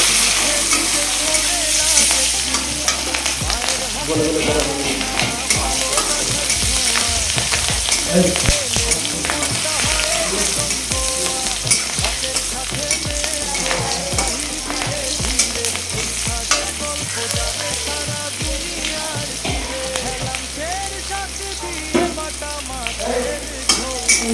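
Chopped green chillies fry in hot oil in a pan, a loud continuous sizzle and crackle with repeated stirring scrapes throughout, no voices heard.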